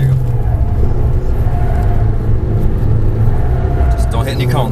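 Fiat 500 Abarth accelerating through a cone course, a steady close engine drone under loud cabin noise, with people talking over it.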